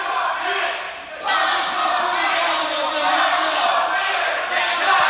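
A wrestling crowd at a hurricane match chanting together, a loud sustained roar of many voices that swells after a brief dip and holds steady, with a voice talking over it.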